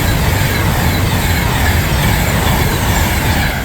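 A British Rail Class 390 electric train passes at Berkhamsted, a loud, steady rush of wheels and rolling stock filling the whole stretch without a break.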